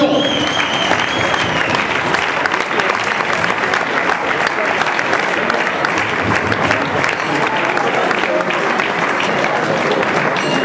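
A crowd gives sustained, dense applause for a fifth-placed race team of marathon runners from Avignon at an outdoor raid podium ceremony. The clapping is loud and continuous throughout, with voices faintly mixed in.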